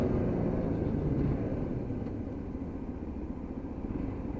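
Lexmoto LXS Euro 5 motorcycle engine while riding, a steady low drone with road and wind rumble that eases slightly partway through, no voices.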